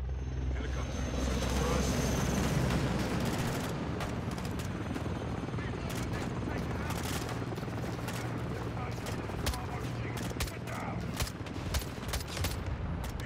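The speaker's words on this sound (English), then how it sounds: "Helicopter." A helicopter throbs overhead in a Call of Duty: Modern Warfare 2 campaign battle, with dense bursts of gunfire crackling throughout the scene and voices talking over the steady din.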